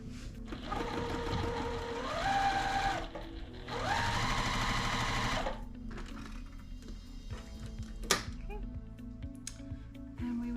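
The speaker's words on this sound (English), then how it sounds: "So we want to just sew this piece to this piece, just like that, 1/4 inch." Sewing machine stitching quilt pieces together with a 1/4 inch seam, running in two loud, close bursts of rapid whirring stitches separated by pauses, with quieter clicks and handling sounds afterward.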